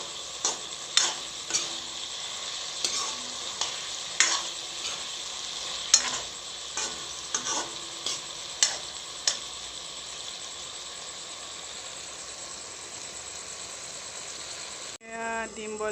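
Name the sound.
taro (kochu) being stir-fried in a pan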